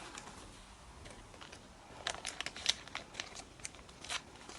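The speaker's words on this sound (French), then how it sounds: "On passe ça au ciseaux" Scissors cut through packaging while a surprise package is unboxed, giving quiet, crisp snips and crinkles that cluster in the second half, close but faint.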